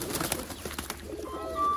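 Sialkoti teddy kabootar pigeons kept for sale give a brief, soft coo over a busy background of rustling and flapping, heard up close.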